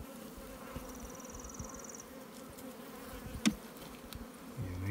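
Honey bees buzz steadily over a frame pulled from a hive during a hygienic test inspection, a dense continuous hum at moderate level with a few soft knocks and handling sounds.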